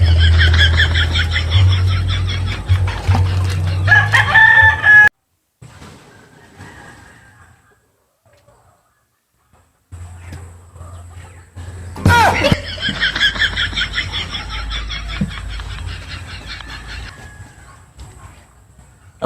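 Chickens cluck and a rooster crows amid lively chatter and laughter, with a brief quiet gap in the middle before the farmyard noise returns.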